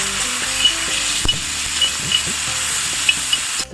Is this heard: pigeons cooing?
no